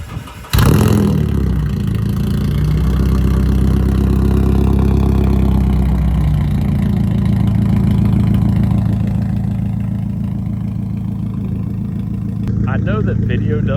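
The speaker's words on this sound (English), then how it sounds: "Kitty, do you mind starting the car for us" A manual-swapped Nissan 240SX convertible cranks over and fires up with a sudden loud roar, then settles into a steady, loud, rumbling idle lasting several seconds before cutting off near the end.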